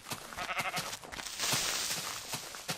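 Sheep in the video game Minecraft bleat in several quick, close bursts against faint game background sounds.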